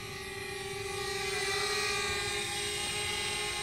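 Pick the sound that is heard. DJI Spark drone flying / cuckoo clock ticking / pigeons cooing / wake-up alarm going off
DJI Spark drone flying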